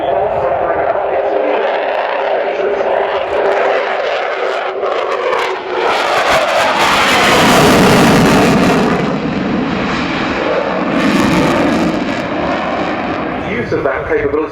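A Sukhoi Su-27 Flanker jet at the Fairford airshow roars loudly and continuously, the engine noise swelling as it passes, while someone talks over it throughout.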